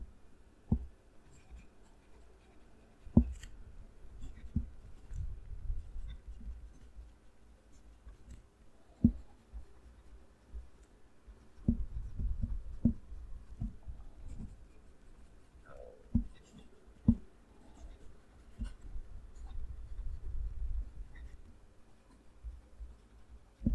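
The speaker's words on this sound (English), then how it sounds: "move the mic close to the page, and write a sentence" Pelikan M1000 fountain pen with a very soft nib writing a sentence on paper, the mic held close to the page: soft scratchy strokes with light taps and pauses between words, fairly faint and with no talking.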